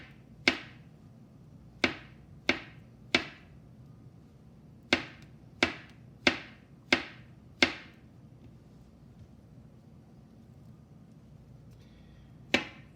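A knife cuts thinly through an overripe banana on a board: about a dozen sharp, close taps come in two quick runs, then a pause and one last tap, with a quiet room behind.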